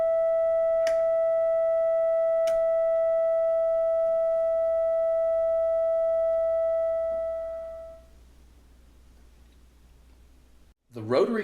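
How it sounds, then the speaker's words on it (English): A steady, pure sine-wave tone from a Buchla Music Easel synthesizer oscillator hums alone for several seconds, then fades out, followed by a brief burst of clicking at the end. "the oscillator produces a sine wave, regardless of the position of the waveform selector switch"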